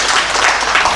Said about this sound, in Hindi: अब हम आमंत्रित कर रहे हैं जिनका जोरदार तालियों से आप सब स्वागत करिए